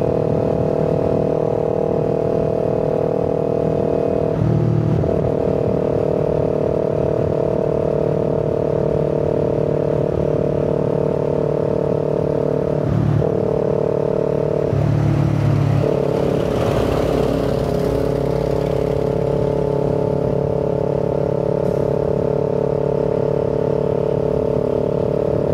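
A Kawasaki Z400 motorcycle on an open road ride, its engine holding a steady loud drone with a couple of brief shifts in pitch as the rider changes gear, and no talking.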